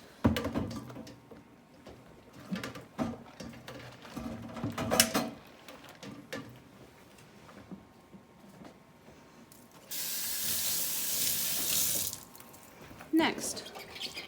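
Tap water runs while raw-milk milking equipment hoses are snaked into a washing sink and submerged, with intermittent clatter and handling noises; a strong steady gush of running water rises around the middle and then stops, with a person speaking nearby.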